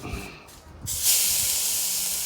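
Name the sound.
corn oil sizzling on hot grill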